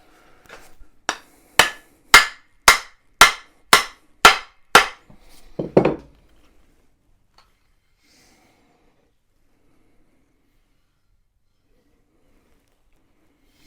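About nine sharp, evenly spaced hammer strikes ring out on a metal axe head, followed by a rougher scrape, then near silence.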